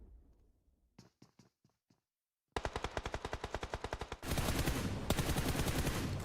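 Automatic gunfire in PUBG Mobile on Erangel during a pro esports match: a few scattered shots, then a pause, then sustained rapid bursts, with a denser, louder spray at the end.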